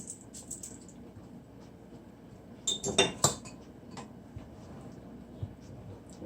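A utensil mixes ingredients for Easter stout buns in a bowl, with light scraping, and a cluster of bright clinks and taps against the bowl near the middle.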